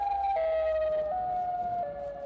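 Siren Head's wailing siren in a horror video game, a loud stepped two-tone electronic wail shifting pitch up and down across a few seconds, heard alone.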